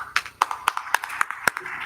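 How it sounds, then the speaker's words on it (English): Scattered applause at a summit panel session, a sparse handful of distinct, sharp claps at irregular intervals rather than a full ovation, in a quiet room. "so we can give him a round of applause"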